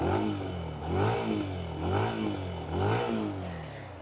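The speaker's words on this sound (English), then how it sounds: "Let's do a quick engine sound test." Benelli BN125 125cc motorcycle engine idling and being blipped, four steady rises and falls in revs at a regular pace, a buzzy lawnmower-like note heard close and alone.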